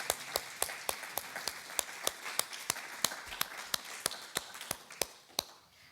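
Sparse applause from a small audience at a poetry reading at Berkeley City College, a handful of distinct claps at a steady, fairly quick rhythm against a quiet room.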